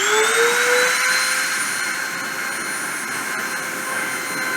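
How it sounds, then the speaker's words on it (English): A machine spindle spinning up for a deposition run, a loud steady whine with tones rising as it reaches speed, over a continuous hiss, with no talk. "we can start the spindle and start the deposition"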